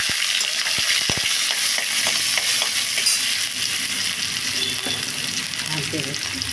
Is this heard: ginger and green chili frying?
yes